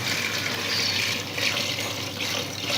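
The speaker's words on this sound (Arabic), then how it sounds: "راح نحط كميه تاع الماء سخون" Hot water is poured steadily into a pan of Algerian olive tagine, a loud, continuous close rushing splash with no talking.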